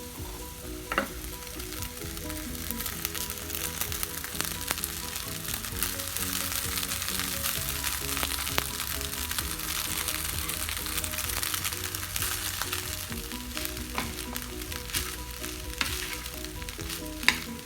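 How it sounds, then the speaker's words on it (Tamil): Cooked rice stirred into a frying coconut mixture in a pan for coconut rice, a steady sizzle with repeated sharp taps and scrapes of the spoon against the pan, close and continuous. "நான் சமைச்சு வச்சிருக்க சாதத்தை இதில் கலந்துடலாம்"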